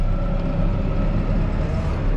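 A New Holland T5.140 tractor engine revving high gives a loud, steady, close drone that holds evenly throughout. No one speaks.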